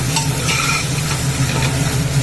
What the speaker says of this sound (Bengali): আদাটা একটু নেড়ে নিলাম এইবার হিংটা দিচ্ছি হিংটাকে একটু নেড়ে নিলাম